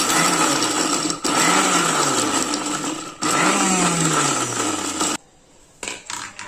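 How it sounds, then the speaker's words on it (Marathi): A mixer grinder whirs loudly as it grinds tender coriander with stems and a little salt, running in three bursts with pitch sweeps as the load shifts, then stopping before a few short clatters. "मिक्सरच्या भांड्यात टाकून घ्यायचं"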